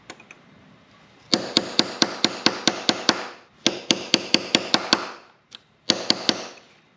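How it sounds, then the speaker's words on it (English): Sharp metallic hammer blows on a chisel, folding back a lip over a sprocket nut, come in quick, even bursts of about eight strikes, pausing between groups, close and loud. "For this step I use a chisel and a hammer."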